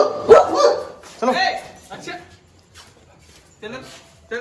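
Several dogs barking in a series of sharp, loud bursts with short pauses between them, close by, while a person speaks briefly.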